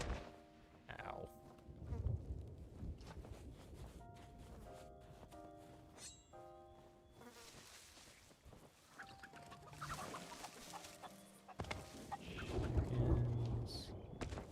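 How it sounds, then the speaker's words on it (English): Chickens cluck on an island in the pirate adventure game Sea of Thieves, a few scattered clucks mixed with game music and other in-game sounds while a person talks over them. "Chickens."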